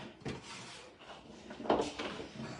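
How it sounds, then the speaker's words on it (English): A brief muffled clunk and rattle as the door of a brand-new deluxe air fryer oven is pushed shut, quiet and close in a kitchen, with faint handling noise around it. "Just close the door."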